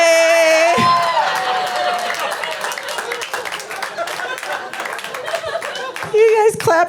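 A stand-up comedy crowd breaks into applause and cheering after a punchline, starting just after a voice and swelling into loud, dense clapping with whoops that carries on for several seconds.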